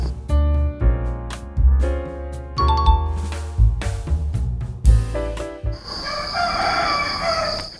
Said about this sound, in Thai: ไก่ขันแล้วครับคุณผู้ชม